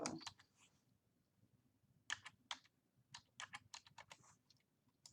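Keys clicking on a computer keyboard as a password is entered, an opening flurry of taps, a pause, then two quick clusters of close, crisp keystrokes with irregular rhythm, alone in a quiet room.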